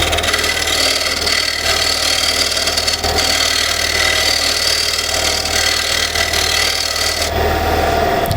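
A hand-turned wooden plate being smoothed on a lathe, a steady loud rasping scrape of the tool against the spinning wood over a continuous motor hum, running without a break.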